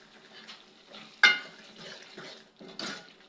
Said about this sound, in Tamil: சிம்மில் வச்சு எண்ணெய் பிரிஞ்சு வர அளவுக்கு கிளறிட்டே இருக்கணும்